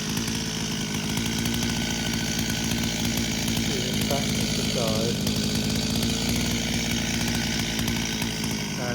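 A chainsaw runs loud and steady, close by, while planking a standing tree, cutting through the trunk with a constant roar, and someone speaks briefly over it.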